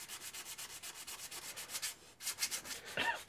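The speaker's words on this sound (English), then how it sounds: "It takes a long time to sand these down." Coarse sandpaper works over hickory atlatl risers in quick, rhythmic back-and-forth strokes, a close, steady rasping that gets brief and uneven near the end, with a final louder scrape.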